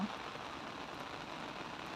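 Steady rain pours down at a home in Thailand, a dense, continuous patter on surfaces heard alone and without talk, even and moderately quiet.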